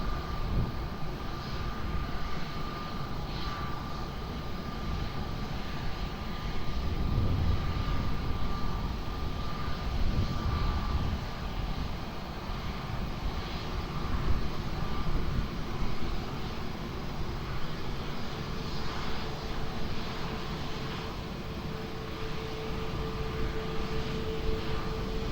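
An airplane roars down runway 20 at Lisbon Airport on takeoff, a loud, sustained broadband engine rumble that holds steady with slight surges over a long stretch, heard from a distance.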